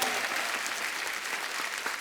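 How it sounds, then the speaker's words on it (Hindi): Dense, sustained applause from a studio audience welcoming guests on The Kapil Sharma Show, a steady wash of many hands clapping close and loud for the whole stretch. "जोरदार तालियां हमारे मेहमानों के लिए।"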